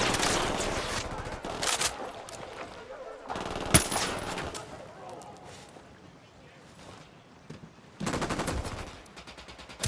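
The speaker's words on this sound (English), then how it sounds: "Eyes on a gun turret. Opening fire." Machine gun fire from a turret in Ghost Recon Wildlands comes in several loud rapid bursts separated by quieter stretches of game ambience and movement, with voices speaking between the volleys.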